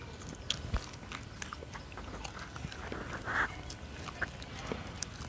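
Close, crunchy chewing of a woody herbal root twig used as a datun toothbrush, with irregular moist bites and crackles continuing steadily for several seconds.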